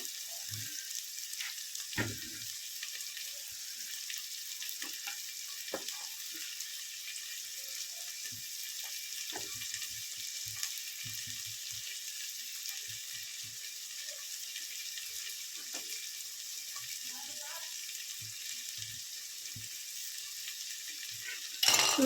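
Onions fry in a pan while moth dal is being made, with a continuous low sizzle and occasional soft clicks and scrapes from stirring, heard close and fairly quiet throughout.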